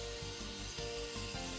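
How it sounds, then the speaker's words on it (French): Mafell KSP40 circular saw cutting through wood, a steady whirring blade with a pulsing rhythm as it feeds along the cut, close and continuous over a brief span, no talk. "La lame de scie coupe directement le long de la lèvre en caoutchouc."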